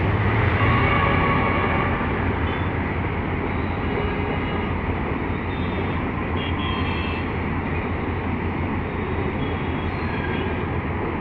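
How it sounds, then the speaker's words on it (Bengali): An intercity train passes beneath the Khilgaon flyover on its way into Kamalapur in Dhaka, a loud, steady broadband rumble and roar that holds constant throughout with no speech. "খিলগাঁও ফ্লাইওভারের নিচ দিয়ে ইন্টারসিটি ট্রেন কিভাবে কমলাপুরের উদ্দেশ্যে ঢুকে যাচ্ছে"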